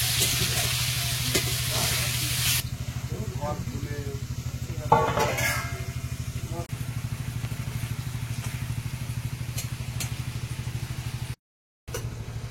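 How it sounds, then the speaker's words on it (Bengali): Pumpkin frying in a pan with turmeric, salt and a pinch of sugar, giving a steady loud sizzle with occasional stirring clatter over a continuous low engine-like hum, a brief dropout near the end. "কুমড়োটা দিলাম, একটু হলুদ গুঁড়ো, লবণ, সামান্য একটু চিনি। আমি এবারে এখন ভেজে নেবো।"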